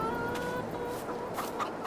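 Chickens in Farming Simulator 22 clucking in a short, busy burst, several birds close together with no talking.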